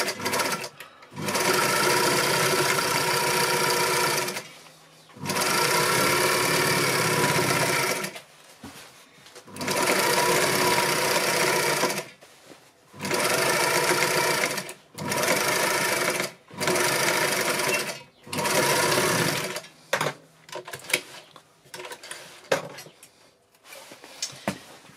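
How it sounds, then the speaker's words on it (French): A sewing machine runs a zigzag stitch along the fabric edges of a cushion in loud, close bursts of steady whirring, each lasting a few seconds and separated by brief pauses, with shorter stop-start runs toward the end. "Je fais donc maintenant mon zigzag sur le bord des tissus."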